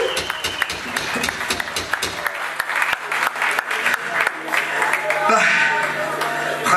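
Concert crowd applauding a band at a metal show in Aveiro, Portugal, a burst of clapping and cheering heard alongside amplified sound and a voice on the PA.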